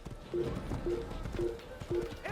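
Galloping horse hooves from the Assassin's Creed video game, a rhythmic clip-clop pounding in steady repeated beats, moderately loud with a voice speaking over it.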